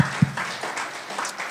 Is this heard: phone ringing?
no